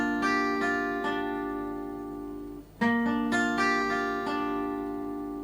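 Electric guitar playing a main riff, a descending run of clear sustained notes across the strings, with a brief gap midway before the phrase resumes; close, moderately loud, no voices.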